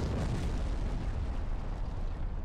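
The ship Arcadia exploding in the space combat video game Strike Suit Zero, a loud, sustained, rumbling blast that slowly fades out.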